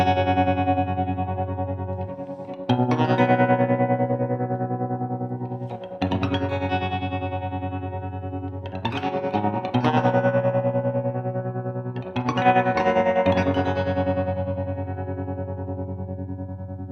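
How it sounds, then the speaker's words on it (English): An electric guitar runs through a Bias Wiggle tremolo pedal set to full speed, with a few loud sustained chords struck about every three to four seconds, each ringing on with a fast pulsing shimmer. "I hope that gives you guys an idea of what bias wiggle tremolo sounds like."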